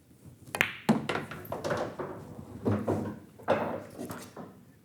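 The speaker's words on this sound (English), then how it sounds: "if I hit this with right spin, my cue ball is simply going to spin the other way around, and I'm going to shoot it" On a pool table, a cue strikes the cue ball with right-hand spin, producing a series of close, dull knocks and clicks at uneven intervals.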